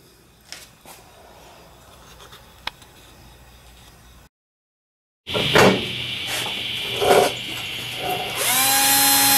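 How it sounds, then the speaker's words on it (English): A power drill bores holes through a metal plate while building a homemade finger brake. A quiet stretch of faint clicks and a short silence give way to a loud, steady grinding drill that ends in a rising whine. "I'm having to drill through these holes to clear for the spacer"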